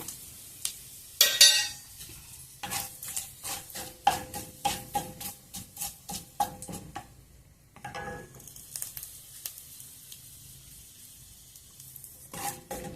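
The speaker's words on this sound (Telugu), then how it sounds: "ఆయిల్ వేడైంది. ఇప్పుడు చెక్క, లవంగ, యాలక్క, బిర్యానీ ఆకు వేసుకున్నాము." Whole spices (cinnamon, cloves, cardamom and bay leaf) fry in hot oil for carrot rice, a steady sizzle with repeated close stirring and scraping strokes of a spoon in the pan.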